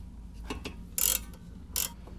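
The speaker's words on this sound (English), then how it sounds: "Now we'll loosen the sway bar end links" A wrench works the 16mm sway bar end link nut on a 2002-06 MINI Cooper S, giving a few soft ratcheting clicks followed by two sharp metallic bursts of loosening, close and otherwise quiet.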